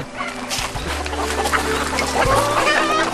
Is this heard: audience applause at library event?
no